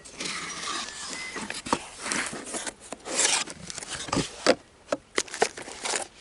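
Scissors cutting open a cardboard box holding a KiwiCo Eureka Crate ukulele kit: close, scratchy rasping and snipping bursts that come in uneven spurts, with short sharp crackles toward the end and no talking.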